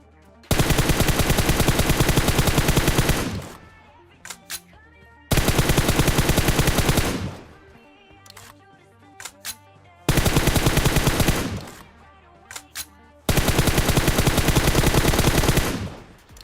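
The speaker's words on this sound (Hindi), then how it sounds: "मैं खिड़कियों पर बहुत ही तगड़ा प्री फायर इसलिए दे रहा था" Four long bursts of rapid automatic gunfire in PUBG Mobile, each roughly three seconds of sustained loud fire, separated by brief gaps with scattered single shots and faint clicks, no talking.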